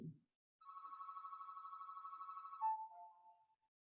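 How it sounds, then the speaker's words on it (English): A phone ringtone sounds at moderate volume: a fast trilling electronic warble held for about two seconds, then a short falling tone, with a brief bit of voice at the very start. "Sorry, Miss Matrix phone was ringing in the background"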